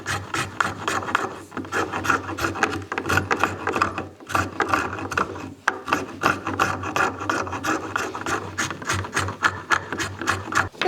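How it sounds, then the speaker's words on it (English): A hardwood push block handle being shaped by hand with a rasp, giving a steady run of close, rhythmic rasping strokes that pause briefly around four and six seconds, with no voices. "we'll get back to shaping this handle"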